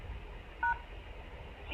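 A single short telephone keypad tone sounds as pound is pressed on a phone dialing into a conferencing service, a clean dual beep over a quiet line.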